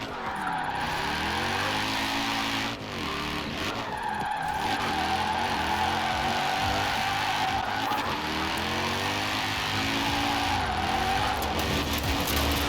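A Mercedes 280 SL in the Forza Horizon 4 racing game drifts with a loud, sustained tire squeal over a revving engine that rises and falls in repeated sweeps, near and continuous.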